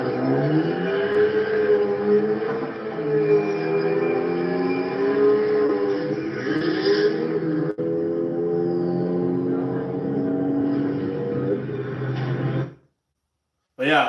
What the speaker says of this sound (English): You'll hear my car a little bit.